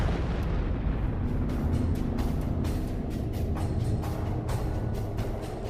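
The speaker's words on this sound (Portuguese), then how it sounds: "o material remanescente iria evaporar em uma explosão colossal e faria bang!" A colossal explosion sound effect rumbles as a heavy, continuous low roar, overlaid with repeated crackling bursts and booms that keep it dense and loud from start to finish.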